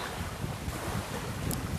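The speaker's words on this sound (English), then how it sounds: "It's a windy place" Wind buffets a microphone at a sheltered, tree-lined camp on a canoe trip, producing a steady, rough rumble across the brief stretch.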